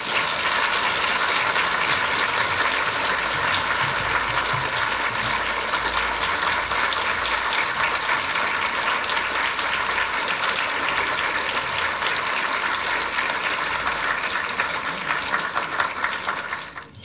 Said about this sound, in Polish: Szanowni Państwo, poproszę o brawa.